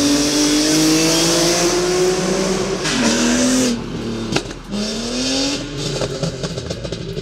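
A widebody BMW E46 M3 with a catless exhaust revs hard and loud nearby, rising and falling in several aggressive bursts with a raspy exhaust tone, then settling to a rumbling idle.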